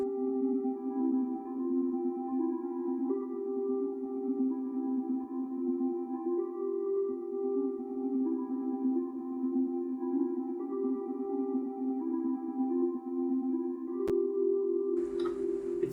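A synth ambience layer in a trance track holds soft, steady midrange tones with gentle pitch shifts throughout. It stays even and unaccompanied until a brief noisy burst comes in at the very end.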